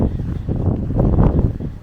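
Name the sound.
wind blowing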